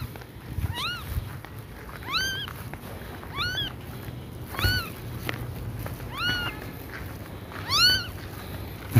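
A kitten and an adult cat meow in turn, about six distinct rising-falling meows spaced a second or two apart, close by over a low steady background rumble.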